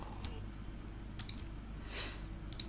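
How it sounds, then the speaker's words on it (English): Sparse, faint clicks of a computer keyboard and mouse during a Minetest gaming session, three or four short ticks spread over a few seconds against a steady low room hum. "Excuse the clicking."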